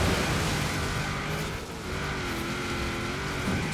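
A Lamborghini Urus and a Toyota truck race past in Forza Horizon 4, a loud, steady roar of engines with a brief dip in the middle before the revving swells again.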